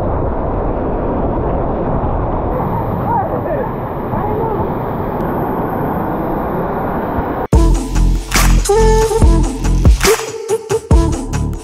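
A waterfall in Bali roars as a broad, continuous wash of water noise close by, then the sound changes abruptly to louder, choppier bursts partway through.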